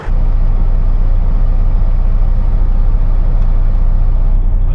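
A big truck rolls into a truck stop, its loud, deep engine rumble and drone steady and close throughout, with no voices.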